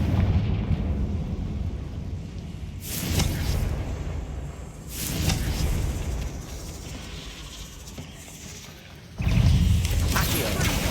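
Confringo blasting spells go off in Hogwarts Legacy: several loud, rumbling blasts burst out at intervals, each swelling over a continuous background of game noise.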